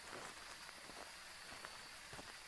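Steady rain falls in a video game, a dense continuous hiss of drops on surfaces with scattered patters, even and moderately loud throughout with no voices.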